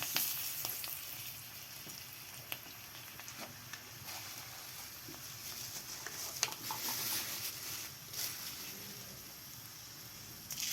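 Dried red chillies and bay leaves frying in oil for a cauliflower dish, a faint continuous sizzle and crackle with occasional soft pops and light stirring.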